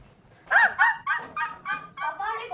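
A dog barks and yips repeatedly at close range in a household, a quick series of sharp, whiny barks with people talking nearby.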